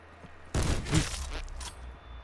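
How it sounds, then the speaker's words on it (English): A short loud burst of gunfire erupts in Call of Duty: Black Ops 4, a dense, crackling volley lasting about a second before trailing off into quieter game noise. "I heard a gun."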